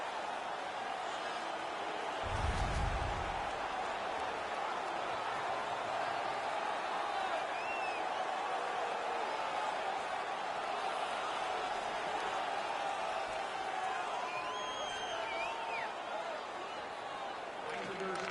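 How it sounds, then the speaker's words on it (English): Home crowd noise from an NHL hockey video game, Boston Bruins against New York Islanders: a steady, loud arena roar sustained throughout, with a brief low thump early on and a commentator talking over it. "The home crowd is ecstatic. They're making all kinds of noise."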